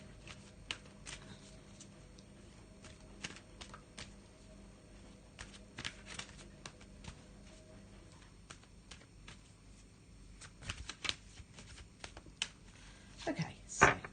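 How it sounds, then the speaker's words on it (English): Tarot cards are shuffled by hand in quiet, scattered bursts of soft riffling clicks and taps, growing a little busier toward the end. "just have a little shuffle of those"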